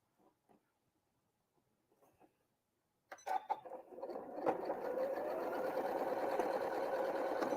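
A sewing machine stitches quilt seams with a pin placed just ahead of the presser foot. It starts after a few quiet taps and runs as a steady, close mechanical whir with no one talking.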